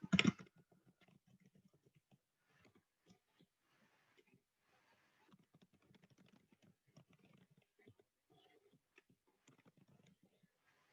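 Quiet typing on a computer keyboard, a steady run of soft, close key taps with irregular rhythm and short pauses, heard alone after one louder click at the start.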